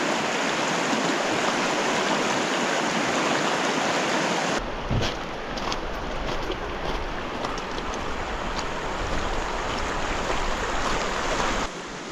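Cow Creek in the Colorado Rockies, Uncompahgre Wilderness, rushing steadily nearby as a broad continuous wash of water noise, with a shift in tone partway through as the listening position changes.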